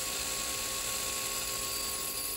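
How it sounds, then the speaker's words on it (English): An angle grinder cuts dry into a countertop to start a hole, a loud continuous high-pitched whine with steady grinding noise throughout, close up and with no talk. "I want to start my grinder at an angle just to get the hole"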